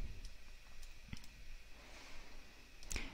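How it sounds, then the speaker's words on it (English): A few sharp, faint computer mouse clicks, spaced apart, selecting an insert-text command in automation software. Otherwise the room is quiet, with no talking. "So let's click on insert text."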